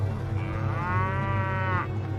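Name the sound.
cows mooing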